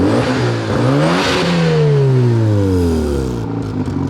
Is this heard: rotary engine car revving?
yes